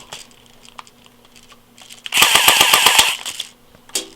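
A 2005 Crosman/UHC mini electric airsoft gun fires a rapid full-auto burst of roughly eight rounds per second, a sharp one-second clatter of close shots after faint handling clicks.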